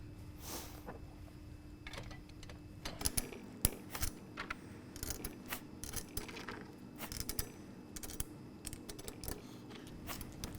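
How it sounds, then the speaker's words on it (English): Carriage bolts are fitted through the metal frame of a Tilmor basket weeder during assembly, giving scattered light metallic clicks and taps over a steady low hum, close and fairly quiet. "you can start putting the bolts down through"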